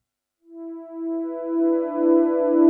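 A Prophet synthesizer plays a pad patch, soft tones swelling in one after another and stacking into a sustained chord, clean and isolated.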